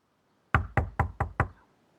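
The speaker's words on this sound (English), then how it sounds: "his knock seemed to be the only sound in the neighborhood" Five firm knocks strike a front door in an apartment building at an even, fairly quick pace. The knocks are loud and close, with a brief ring-off after the last one and silence around them.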